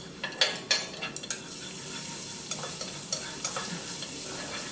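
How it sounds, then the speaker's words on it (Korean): Ginger and garlic are stir-fried in oil in a pan, with a steady loud sizzle and sharp scraping and clinking from a utensil stirring near the start, followed by a few scattered scrapes. "생강, 생강을 넣고 볶아줍니다."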